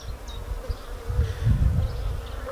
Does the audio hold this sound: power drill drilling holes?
no